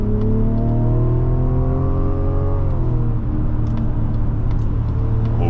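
A 2025 Mazda CX-90 accelerates to overtake, its engine rising steadily from inside the cabin, then dropping at a gear change before pulling again under a constant road rumble.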